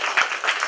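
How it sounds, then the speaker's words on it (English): A festival audience at a sustainable-business talk applauds for Dustin, a brief, even wash of many hands clapping at moderate loudness. "everybody clap for Dustin"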